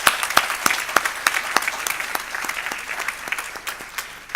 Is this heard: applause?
yes